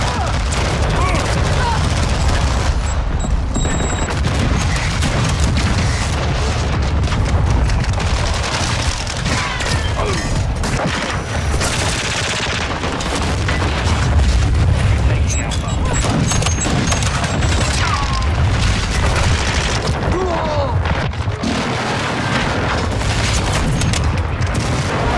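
Dense, continuous barrage of rocket launcher explosions and gunfire in Call of Duty Modern Warfare 2 (2022) multiplayer, loud and chaotic throughout with booms layered over constant combat noise.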